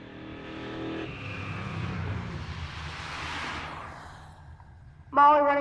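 Drag race cars, including a C7 Corvette, at Pueblo Motorsports Park, engines roaring down the strip and fading into the distance, then a loud voice cuts in abruptly at the end.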